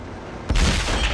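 A tank's main gun fires in an armored combat video game: one sudden, heavy, booming blast that rings out loud and close after a short stretch of background noise.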